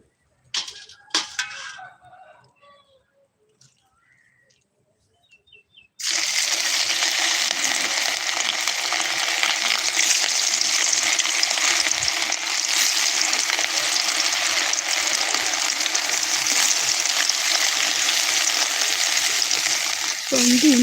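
Chicken 65 deep-frying in hot oil: after a near-silent stretch with a few faint knocks, a loud, steady, close sizzle begins and carries on unbroken to the end.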